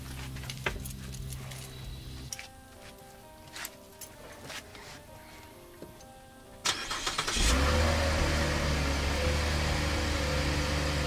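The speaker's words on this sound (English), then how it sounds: "And I'm gonna start the car up" A car engine cranks and catches at about seven seconds, then settles into a steady, loud idle after a stretch of quieter clicks and handling noises, during a tire plug and change job.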